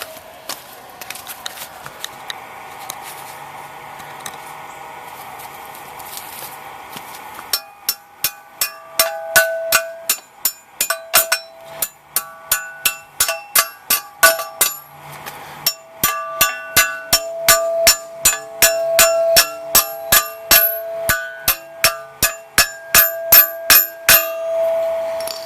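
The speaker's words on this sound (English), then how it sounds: "anchor bolts are ready to be hammered in" Anchor bolts are hammered into drilled holes for a privacy fence atop a retaining wall, sharp metallic hammer strikes ringing out in quick rhythmic runs, sparse at first and then dense and steady, close and clear.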